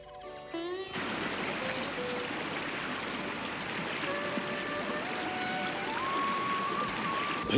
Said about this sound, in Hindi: नदी के पानी की ध्वनि सुनाई दे रही है।